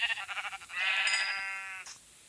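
A sheep in the Minecraft video game bleats several times in quick succession, then draws out one long, clear, wavering bleat, loud and alone with no talk over it.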